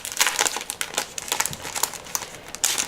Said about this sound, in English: They come in this little plastic bag.